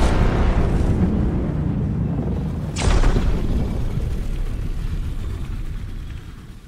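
Illuminate enemies from the video game Helldivers 2 give off a loud, dense roaring rumble that runs the whole time, swelling briefly near the middle, with no talk over it.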